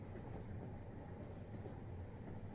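Interior of a moving train, a constant low rumble of rolling carriage with faint rhythmic rail clatter, even and unbroken, no talking.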